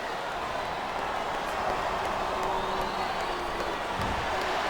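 A capacity arena crowd cheering at the WWE Judgment Day 2007 wrestling event, a continuous loud roar of voices that holds steady throughout.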